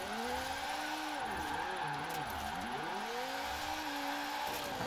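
Ford Mustang RTR drift car in Forza Horizon sliding sideways, engine droning steadily with pitch sweeping up and down as revs rise and fall, tire noise underneath throughout.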